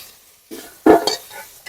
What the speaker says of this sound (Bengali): পটলটা আমার ভাজা হয়ে গেছে, এবার তুলে নিচ্ছি